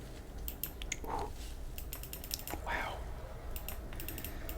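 Button clicks on a gel blaster turret's trigger, sharp and keyboard-like, come as a quick scattered series of light taps, close and quiet, with a brief spoken exclamation among them.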